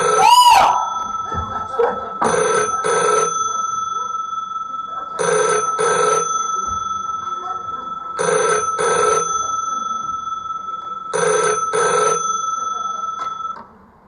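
An old-fashioned telephone bell rings in four evenly spaced double bursts, loud and close, with a short gap of quiet between each pair of rings.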